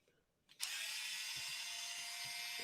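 An electric screwdriver whirs steadily, close and loud after a brief click, as it drives out the body screws of a Heiniger Sapphire animal clipper.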